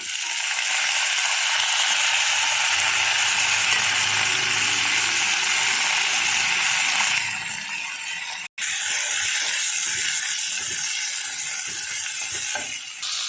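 Mint and coriander leaves hitting hot ghee with fried cashews in a biryani pan, giving a loud, dense broadband sizzle that thins out partway through, then a brief dropout and a steady, quieter frying hiss.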